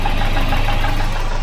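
A Volvo 240's B230 redblock four-cylinder runs steadily on its own after a rough, slightly flooded start, with a constant close, loud idling rumble and faint knocking.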